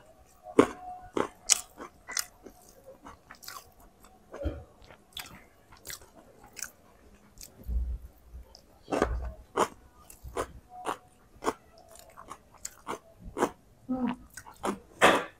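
Close, intermittent chewing and biting of fish curry with rice, with irregular wet crunches and soft mouth clicks spread throughout, loud and near, with no talking.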